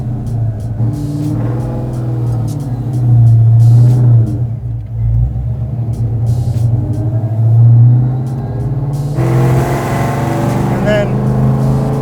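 A supercharged 1000 hp Terminator Cobra with a Whipple blower rumbles nearby at idle and low throttle, its deep, steady engine note swelling in two brief surges, then picking up a harsher edge near the end.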